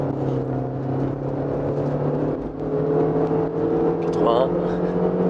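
A Renault Scénic accelerates at full throttle, its steady engine drone building gradually from inside the cabin while people talk over it.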